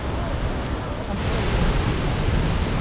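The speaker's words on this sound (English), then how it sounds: "the water is flowing so well" Water from Cheonjiyeon waterfall pours in a dense, steady roar, loud and close with some wind buffeting, and no one talks over it.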